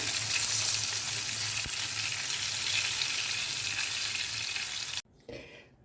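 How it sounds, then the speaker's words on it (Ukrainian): Hake pieces sizzle loudly in a frying pan, a dense continuous crackle close by, cutting off abruptly near the end to a much quieter hiss. "Я підсмажила рибку гарно, з обох боків і винімаю"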